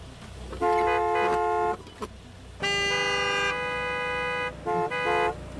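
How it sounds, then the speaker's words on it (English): Car horn in the Gas Station Simulator video game, honking in three bursts: two short stuttering toots, then a long sustained blast, then a final pair of brief toots, loud and alone. "Why are we honking?"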